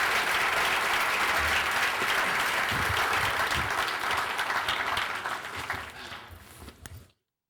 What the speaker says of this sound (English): Let's hear it for Dr. Tim Lockley.